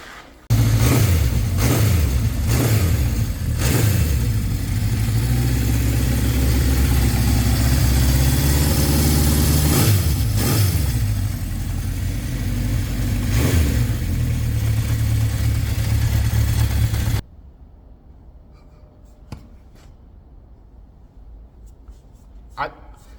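A vintage motorcycle engine runs and revs loudly and close for about seventeen seconds, with rhythmic pulses and rising revs, then cuts off abruptly to near quiet with faint clicks; someone talks over it.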